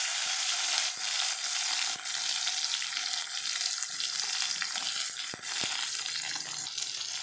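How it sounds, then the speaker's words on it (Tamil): Onions and tomatoes sauté in a pan for a Karaikudi-style crab curry, giving a steady, close sizzle with occasional scrapes and stirring knocks throughout, and no talking. "வெங்காயம் தக்காளி சேர்த்துட்டு நல்லா வதக்கிக்கலாம்."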